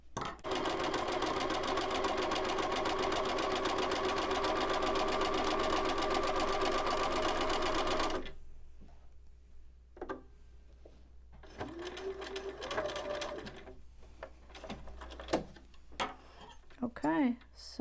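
A sewing machine hums loudly and continuously, zigzag stitching along a table runner, then stops abruptly; afterward come scattered handling clicks, taps and rustles with a voice speaking intermittently.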